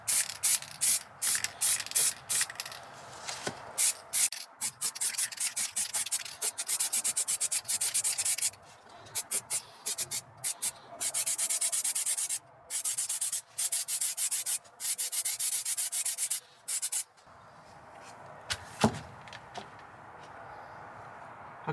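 Spray painting a coat onto interior car trim panels, with close bursts of hissing spray that start and stop in an irregular rhythm, separated by short pauses and ending in quieter hiss.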